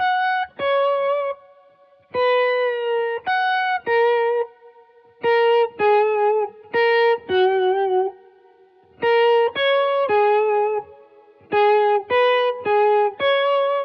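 Close, loud electric guitar lead played through an EHX POG2 octave generator pedal, producing layered organ-like tones in short phrases of sustained notes with brief gaps.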